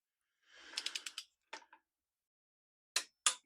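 Torque wrench clicking as a primary bolt on a 1989 Harley FLHT Evo is tightened to 27 foot-pounds, a soft ratcheting burst followed by a few sharp, close clicks in a quiet garage.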